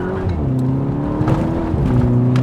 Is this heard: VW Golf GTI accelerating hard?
yes